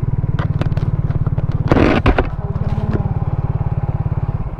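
Motorcycle engine running on a road near Wawa Dam in Montalban, Rizal, with a steady close throbbing drone throughout and a brief louder rough burst about halfway through.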